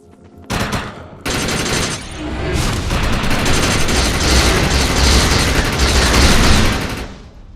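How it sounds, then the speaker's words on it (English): Sustained rapid gunfire with an overcharge power active in the sci-fi shooter game Defiance, a dense loud barrage that starts abruptly, briefly pauses, then roars continuously for several seconds with heavy booming impacts. "Shoot the projection while overcharge is activated."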